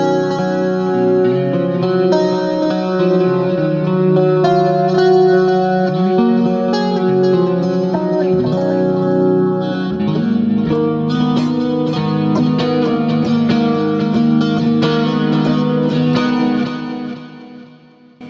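An electric guitar run through a Boss VG-800 pedal, pitched one semitone lower, plays a sustained, heavily effected chord passage with distortion, chorus and reverb, loud and continuous, then cuts off abruptly near the end.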